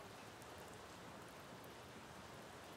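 Steady rain falls continuously, a dense even hiss of drops on surfaces with no pauses and no voices, heard softly from indoors or nearby.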